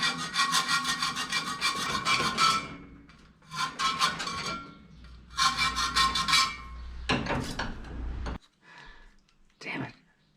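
Hand file rasping back and forth on a small part for a custom air ride switch panel, several bursts of steady close strokes separated by pauses.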